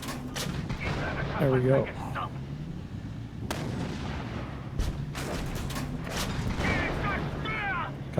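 A tank's main gun fires in a video game, sharp booming shots and blasts punctuating continuous battle noise and mechanical rumble, with someone speaking briefly over it.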